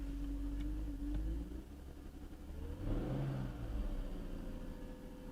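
A car that has sat unused for over a month idles with a steady mid-pitched engine drone and slight unevenness, rising briefly in a soft rev partway through, close and continuous with no one talking.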